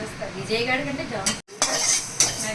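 Coriander, cumin and fenugreek seeds dry roasted in a pan, a close stir and rattle of seeds against metal with a sharp clink, over a soft background hum, with a brief silent break.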